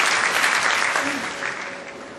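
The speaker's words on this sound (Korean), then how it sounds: "한 박수 부탁드리겠습니다" Audience applause at a tech event honoring an award-winning developer, a dense, fairly loud clapping from a crowd that stays steady, then eases slightly toward the end, with a faint voice briefly underneath.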